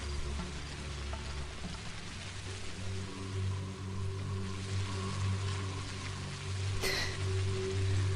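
Rain falls in the video game Pathologic HD, a steady patter and hiss on surfaces with a low hum running beneath it and a brief sharp click near the end. No voices are heard.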